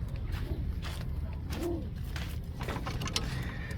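Domestic pigeon hen in a house loft giving a soft low coo partway through, faint and brief beneath steady loft background noise.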